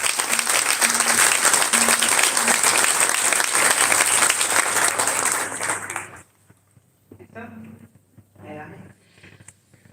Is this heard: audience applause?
yes